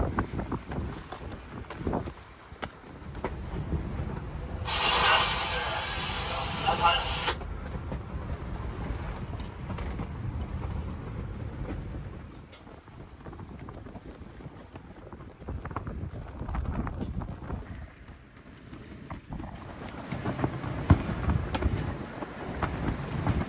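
Wind buffeting a reefed sailboat at sea under cutter stay sail and foresail, a continuous rough rush and microphone rumble that rises and falls, with a brief brighter burst early on and no talk.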